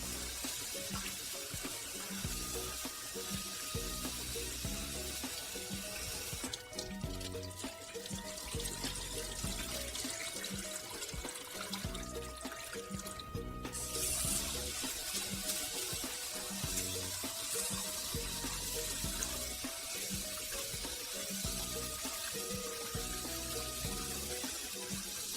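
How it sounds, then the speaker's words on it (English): Rice for nasi kuning is washed in a sink, with water running and sloshing as the grains are swirled and rinsed in a continuous, even wash that runs for the whole stretch without speech. "You wash the rice thoroughly and completely in order to effectively get the starch out"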